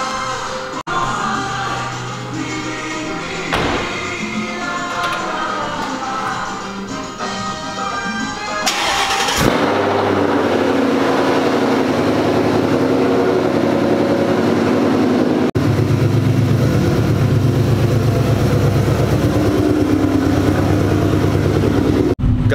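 A Ford Mustang with an all-orange bumper sits close by, its engine running with a steady, rumbling idle. A sudden change partway through leaves the engine noise louder and fuller.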